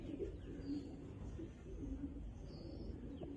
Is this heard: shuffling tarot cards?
no